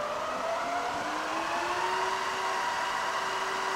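The spindle of a 9 x 49 inch Acra variable-speed vertical milling machine runs in its high speed range, a steady close mechanical whir whose pitch rises gradually and then holds, with no talk over it.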